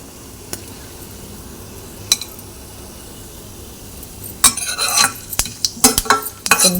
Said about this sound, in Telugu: కొంచెం ఫ్రై కానిద్దామండి